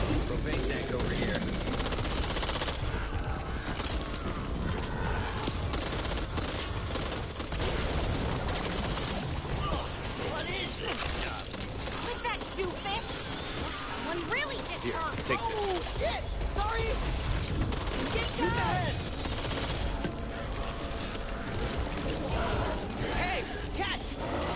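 Heavy video-game gunfire from an online shooter, sustained bursts and rapid automatic shots running throughout amid explosions and chaotic action, with players talking excitedly over the din.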